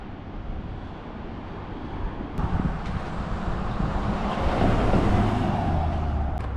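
Strong wind buffets the open coast along the Pacific Coast Highway at Big Sur, a broad rushing roar that swells louder toward the end with faint road noise beneath.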